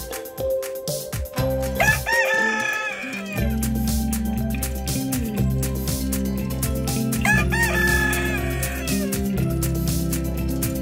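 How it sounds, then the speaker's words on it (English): A rooster on a small farm in Canada crows twice, loud and close, amid a dense mix of other background farm and household sounds. "Beautiful rooster."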